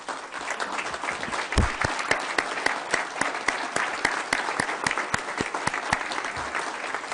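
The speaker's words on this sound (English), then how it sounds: "You may clap" An audience applauds city councilors being introduced at a midterm address, steady dense clapping with sharper individual claps standing out, sustained and fairly close throughout with no talk.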